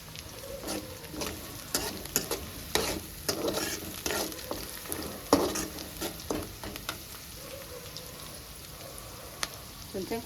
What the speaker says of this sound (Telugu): బాగా ఫ్రై చేసుకుందాం.